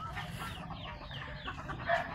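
A black fighting rooster clucks in short, repeated bursts close by, with a steady low rumble of background noise throughout.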